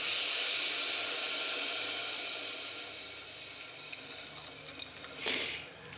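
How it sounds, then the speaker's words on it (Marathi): Water pours into a pot of steamed peas, carrots and spices for pulao, a steady close rushing hiss that slowly fades and ends with a brief splash. "आता आपण पाणी टाकून घेऊया."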